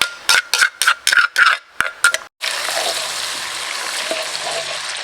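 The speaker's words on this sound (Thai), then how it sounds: "กระเทียมเนี่ยเราก็จะเจียวให้เหลืองเนี่ยเก้าสิบเปอร์เซ็นในกระทะนะครับ" Garlic frying gently in oil over low heat in a wok-style pan, turning golden, a steady close broadband sizzle that follows a run of short utensil stirring scrapes.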